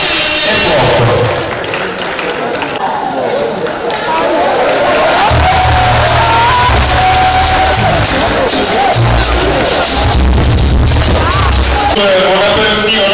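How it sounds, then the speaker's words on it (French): A stage oratory contest audience cheers and applauds loudly as a speaker comes on stage, a dense roar of clapping and crowd noise with bursts of heavy low booming music or thumps underneath. "On l'accueille sous le applaudissement, s'il vous plaît"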